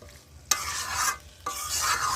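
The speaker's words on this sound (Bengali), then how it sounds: "মাংসটা কষিয়ে নিচ্ছি" Chicken pieces frying and being stirred in a pan for a spiced chicken kosha, loud close sizzling broken by two sharp spatula scrapes against the pan.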